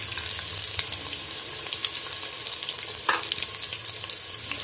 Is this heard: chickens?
no